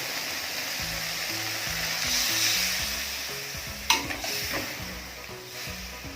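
Green curry with fish balls and thin coconut milk boiling in a pot, a steady bubbling simmer with a few brief clinks of a utensil against the pot partway through, close and fairly quiet, no talking.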